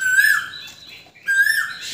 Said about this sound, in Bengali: আর কোকিলের ডাক খুব শুনেছেন তো